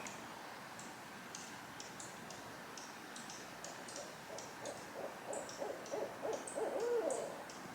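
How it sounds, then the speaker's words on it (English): Soft, repeated hooting notes from a bird somewhere in the distance, set against a steady outdoor hiss with scattered higher chirps, growing slightly louder toward the end. "I don't know if this is a bird or an owl or what."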